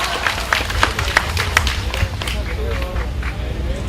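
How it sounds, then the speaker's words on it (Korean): A crowd claps at an outdoor protest rally, a steady patter of many hands with some louder sharp claps, close and continuous throughout. "큰 박수 한번 보내주십시오"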